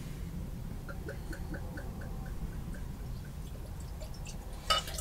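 Styrian Goldings single-hop beer poured into a glass: a soft, steady run of liquid with faint drips and fizz over low background rumble, ending in a brief bright clink or splash near the close.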